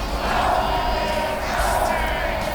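WWE 2K24 arena crowd chanting, a steady, broad roar of many voices that holds at an even level throughout.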